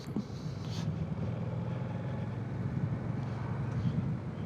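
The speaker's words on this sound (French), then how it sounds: "Donc ce moteur, on a vu qu'il était coupleux, mais on voit aussi qu'il est souple." A 2025 Yamaha Tracer 7 GT motorcycle engine pulls in gear at low speed, making a steady low hum mixed with wind rush, held at an even loudness throughout.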